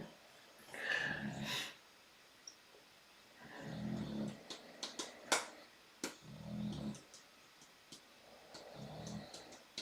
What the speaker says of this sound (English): my dog agrees because she just snorted really loud